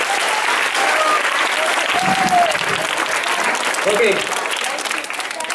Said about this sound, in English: let's clap for your teams that have reached Pathoda Stadium